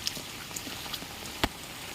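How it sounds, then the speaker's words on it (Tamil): Rain falls on a road in a downpour, a soft continuous patter with scattered brighter drip impacts, fairly faint and steady with no talking. "மழை பெய்யுதுன்னு கொடையை எடுத்தா இங்கே பாருங்க"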